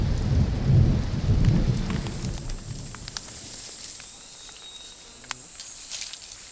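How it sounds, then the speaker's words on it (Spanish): Heavy rain pours steadily in a forest, while low thunder rumbles loudly at first, then fades, leaving patter and scattered drips. "Es que está lloviendo todos los días"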